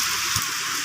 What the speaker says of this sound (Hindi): अभी स्पीड के साथ भाई साहब बारिश लगी हुई है